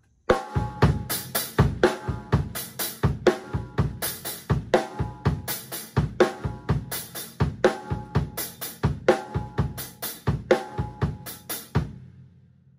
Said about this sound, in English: the common way that I'll play it is hand, kick, kick, hand, hand on the hi-hat, followed by another kick.